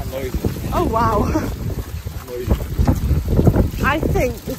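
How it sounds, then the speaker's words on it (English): Wind buffets the microphone outdoors on a wet day at a cyclocross race in York, a rough, gusty rumble that swells and fades under people talking nearby. "It's a bit windy out, a bit wet as well."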